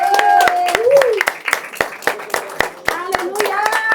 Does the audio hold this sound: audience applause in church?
yes